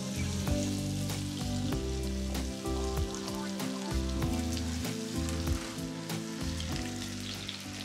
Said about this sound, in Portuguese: vou derreter um pouco de manteiga e vou juntar aqui maçã golden